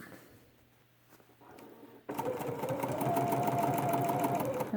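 A Bernina sewing machine fitted with a 71 foot stitches quilt binding, starting after a few quiet handling sounds and then running as a steady, close, rapid mechanical whir to the end.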